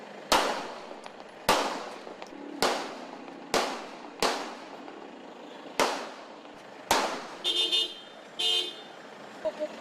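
Several sharp gunshots from a police shootout with a rider armed with a .45-caliber pistol, recorded on street CCTV, crack out at irregular intervals, each loud and echoing, followed by brief bursts of a car horn.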